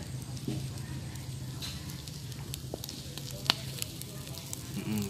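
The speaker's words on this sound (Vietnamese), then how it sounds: "Mở chả xèo xèo luôn nghe mùi thơm đó." Eel grilling over a fire gives off a soft, steady sizzle of dripping fat with occasional small crackles and pops, close by, under quiet background voices.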